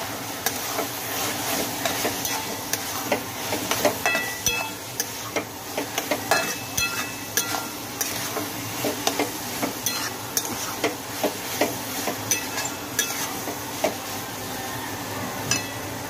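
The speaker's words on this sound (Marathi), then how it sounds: "हे बटाटे फ्राय केलेले ते टाकूया, परत हलवून घेऊया।" A dry fenugreek leaf dish with fried potatoes tossed in is stirred in a pan, making repeated scraping and clinking strokes over a soft sizzle, close and steady, with no voice.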